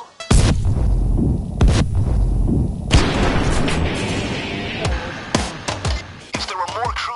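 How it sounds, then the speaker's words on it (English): Fireworks explode in the heist video game Payday 2: a rapid, loud string of booms, cracks and pops that overlap and echo, continuing steadily across the whole stretch amid game noise. "Stay back! Fireworks!"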